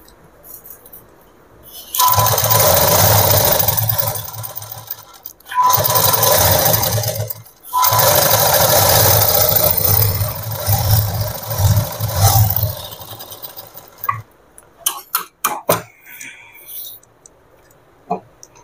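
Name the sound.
sewing machine stitching petticoat fabric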